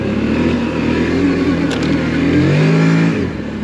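A 2025 CFMOTO Cforce 800 Touring ATV accelerates hard with a loud, close engine roar, its pitch climbing as it revs up, then dropping back near the end.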